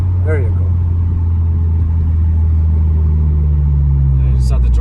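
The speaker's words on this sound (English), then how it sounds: "Now you can hear the spool." Steady loud engine drone from a 2019 Honda Civic Type R fitted with a PRL intake, turbo spooling as it runs, with a faint higher whine over the low rumble and brief talk near the start and end.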